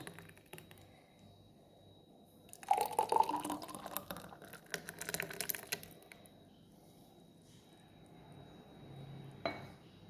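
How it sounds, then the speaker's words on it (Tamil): Muskmelon juice is poured into a glass holding soaked sabja seeds: a brief, faint pour with light glassy clinks, then quiet room tone and one small knock near the end. "அதில் நம்ம ஜூஸ் ரெடி பண்ணி வச்சுருக்கோம் இல்லைங்களா, அதை இதில் ஊற்றணும்"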